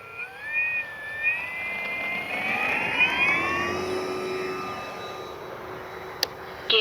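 An FMS F4U Corsair 1700 mm RC model plane with full ordnance and flaps set for takeoff roars up through its takeoff run, a rising electric motor whine with shifting tones that swells and then holds steady.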